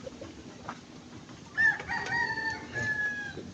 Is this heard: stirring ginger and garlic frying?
no